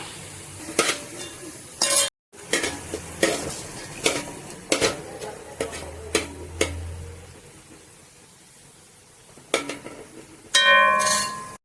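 Fried chicken 65 is moved onto another plate with metal utensils that clink and scrape against the pan and dish in irregular bursts, ending with a brief sizzle.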